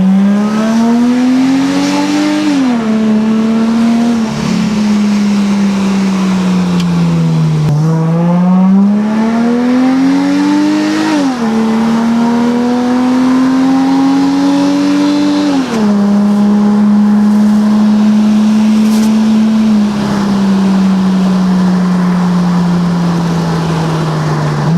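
A Subaru Outback fitted with custom blast pipe exhausts revs hard and loud, its engine note rising and falling through several long sweeps with a raspy, droning tone and no voices over it.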